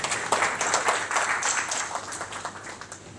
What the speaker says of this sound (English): So I would like to applaud Nusrat for this great action.